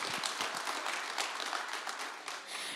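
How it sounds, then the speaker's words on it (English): An audience at the Effective Communicators Conference 2025 gives a steady, moderately distant round of applause welcoming a moderator to the stage, a dense wash of clapping throughout with no talk over it. "I want you to please welcome Larry on stage with a wonderful round of applause"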